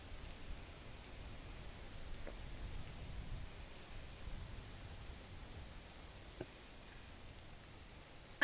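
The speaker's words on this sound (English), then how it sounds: "Oh, and it's raining." Steady rain falls in the climbing video game Peak, a soft, even hiss with faint drop patter holding at a low level throughout, no voices.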